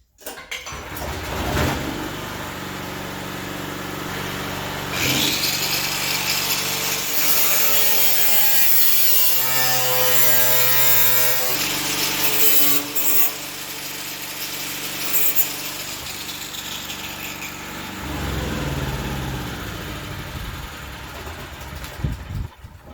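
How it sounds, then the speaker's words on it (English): A power grinder works the inside edges of a 1968 Mustang's rear quarter panel, a loud, harsh, continuous abrasive whine close up that holds steady for about twenty seconds with brief dips in pitch and pressure. "I shall grind on the inside of these edges, as it were, as well, where it needs to be tacked against there"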